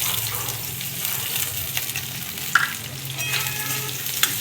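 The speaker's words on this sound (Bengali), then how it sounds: "পেঁয়াজটাকেও রসুনের সঙ্গে ভেজে নিচ্ছি।" Sliced onion fries together with garlic in a pan, a continuous close sizzle with occasional clinks and scrapes of stirring.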